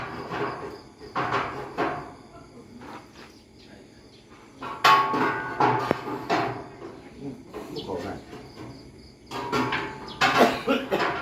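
Hammering at a site where a ladder is being built, heard as irregular bursts of sharp knocks, some clustered, with quieter gaps, crickets and occasional voices in the background.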